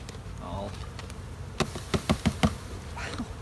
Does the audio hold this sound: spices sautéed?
no